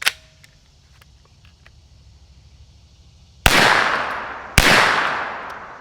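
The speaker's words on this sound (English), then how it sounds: "We'll shoot 2 rounds unsuppressed." Two loud, sharp unsuppressed shots come from a CZ Scorpion pistol loaded with 115 grain rounds, about a second apart, each with a ringing outdoor echo that trails off. Faint clicks come before them.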